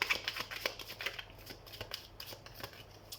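Tarot cards being shuffled, a run of quick papery riffling flicks and soft slaps, close and fairly quiet, with no voice over it.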